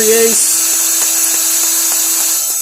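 A high-pitched drill whine runs continuously and loudly, a 3/8 drill bit grinding rust out of holes for Chevrolet Suburban 2006 rear brakes, steady for a few seconds with faint scraping clicks underneath.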